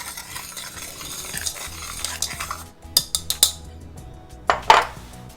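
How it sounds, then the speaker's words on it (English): Dry vanilla pudding ingredients are stirred in a pan with a utensil, giving a run of scraping, tapping strokes and a few sharper clinks against the metal, close and fairly loud. "So now I'm just going to want to take all of my dry ingredients and give them a quick mix in the pan."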